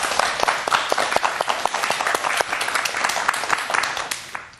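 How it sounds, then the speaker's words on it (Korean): Audience applause welcoming a pastor, a former Jogye Order monk, onto the stage at a church testimony service, a dense burst of many hands clapping at steady loudness, tapering off at the end. "박수로 맞이해 주십시오"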